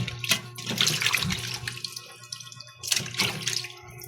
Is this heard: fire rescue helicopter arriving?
no